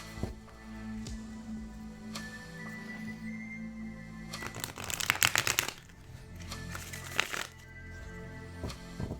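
Tarot cards riffled in a shuffle, a dense burst of crisp flicking in the middle over a low steady background hum, with quieter card handling before and after.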